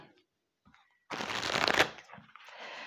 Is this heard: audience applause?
no